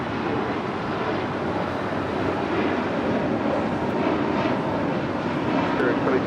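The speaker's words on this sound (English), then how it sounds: "the Alaska Special livery now heading to the gates here on the south side" An Alaska Airlines airliner in special livery taxis toward the gates on the south side of LAX, its jet engines a steady, broad roar that stays level throughout, with faint radio voices underneath.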